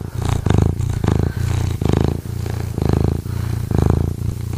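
A cat purrs loudly and close, a steady rhythmic rumble that swells and eases with each breath in a regular cycle of roughly half-second pulses, used as a sound effect in a podcast promo with no speech over it.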